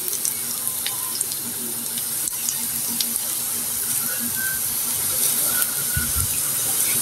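Potato and flour snack frying in hot oil, a steady close hiss and sizzle with faint crackles running throughout, no voices.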